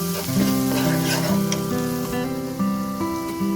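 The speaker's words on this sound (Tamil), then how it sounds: "இது ஒரு 10 நிமிஷத்துக்கு மசாலா வந்து எண்ணெயில் நல்லா வதங்கட்டும்" Masala of chili powder and kurma spice powder fries in oil in a pan for green peas kurma, a steady close sizzle under background music.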